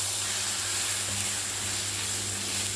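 Chili powder and turmeric powder sizzle in hot oil for a Chettinad garlic kuzhambu, a continuous even hiss close by with no pauses and no talk.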